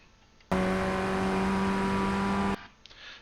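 Formula Ford 1600 race car engine in iRacing at Lime Rock, a loud sustained full-throttle drone with steady harmonic whine that starts abruptly and cuts off after about two seconds.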